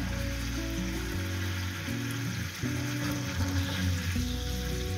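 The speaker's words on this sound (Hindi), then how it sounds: "इसी तरह चिकन को पलट के पकाएंगे।" Chicken pieces fry in a pan for a bun kebab recipe, giving a steady, close sizzle with continuous crackling and hiss, under faint background tones and no speech.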